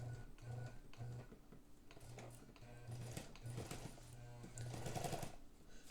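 A 1959 Necchi sewing machine under restoration runs in short mechanical bursts with pauses between, a soft rhythmic whir and clatter, fairly quiet and close.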